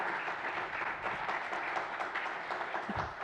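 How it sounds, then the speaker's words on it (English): Audience at a community forum on homelessness giving a round of applause, dense even clapping from a seated crowd for several seconds, with no talk over it. "let's give a round of applause for our speakers"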